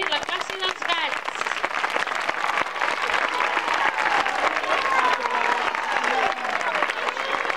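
Sustained applause from a school audience for drawings made by a P3 class of young children at a Jocs Florals event, dense steady clapping mixed with crowd chatter and a few children's voices throughout.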